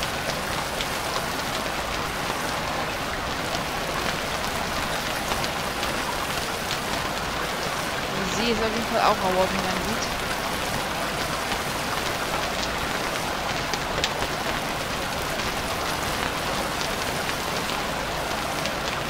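Rain falls steadily on a tropical survival island in the game Stranded Deep, a dense, even patter filling the scene. A campfire burns nearby, and someone speaks briefly partway through.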